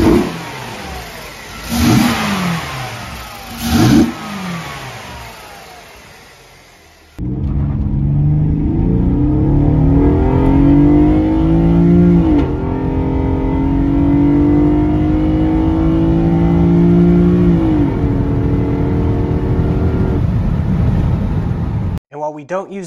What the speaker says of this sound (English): I'll give you a little rev clip so you guys can hear what it sounds like.